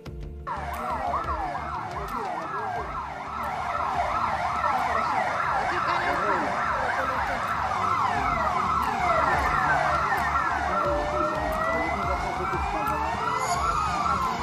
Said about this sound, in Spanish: Ahí hicieron sonar las sirenas de las ambulancias como una forma de homenajearlo